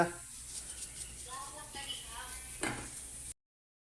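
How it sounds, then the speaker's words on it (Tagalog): A steady bubbling, hissing simmer of fish head stew boiling in a pot fills the background while someone talks over it. "Kumukulo na ang ating paksiw na ulo."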